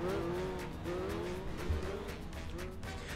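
Legends race cars pulling away at the start of an oval track race at Ipswich, a dense roar of several engines revving and shifting together at moderate distance.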